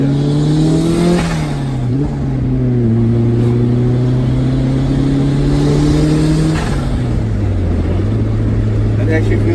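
A Toyota MR2 with a turbocharged 3SGTE engine pulling hard from inside the cabin, a loud droning engine note rising through gears with shift dips, steady and close throughout.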